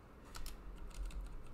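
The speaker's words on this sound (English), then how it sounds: "But as you see, as we type these in" Keys clack on a Jupiter ACE home computer keyboard in a short burst of several quick, close presses, crisp and fairly loud, with no talking.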